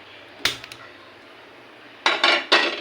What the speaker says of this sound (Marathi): तवा ठेवलेला आहे मी.